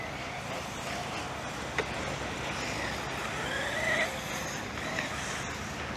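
A Traxxas UDR RC truck races around a dirt track, its electric motor whining steadily with a constant rush of tyres and wind, and a few brief knocks and squeals as it slides through corners.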